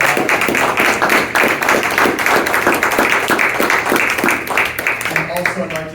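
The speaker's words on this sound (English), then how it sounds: "if you could join me in a round of applause." An audience at a school board candidate forum gives a round of applause, with dense, steady hand clapping from many people that carries on for several seconds before tapering off.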